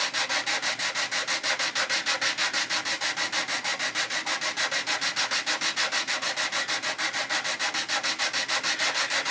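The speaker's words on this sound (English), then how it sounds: "I just want to sand away at the CA glue." Sandpaper rubbing cured CA glue off the plastic hull of a 1/350 USS Missouri BB-63 model ship, a close, even back-and-forth scraping in a fast steady rhythm, alone without talk.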